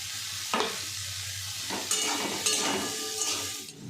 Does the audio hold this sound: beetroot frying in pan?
yes